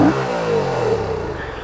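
A motorcycle engine revs briefly through a poor aftermarket exhaust, one loud close rev that rises and then settles back, with no talking.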